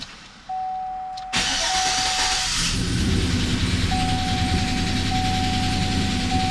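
A GMC Sierra with a 5.3L V8 and misfiring cylinders cranks and fires, then settles into a loud, rough idle with a steady hiss and a whine, close up with no talk.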